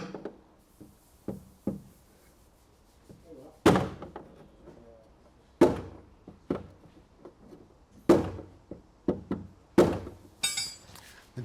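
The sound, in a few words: hammering out a dent in a classic Ford's bodywork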